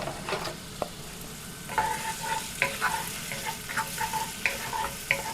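Red and white onions, about two medium ones, sizzle steadily in a pan, a soft continuous fry broken by faint scraping stirs and small clinks.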